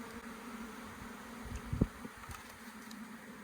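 Honey bees buzzing at a wedding venue during a hive removal, a steady low drone of many insects with a brief louder bump midway, no talk.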